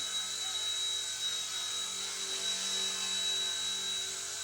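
A Goolrc C129 mini 6-axis RC helicopter's rotor buzzes in a steady, high-pitched whine that holds constant throughout, close by and fairly loud.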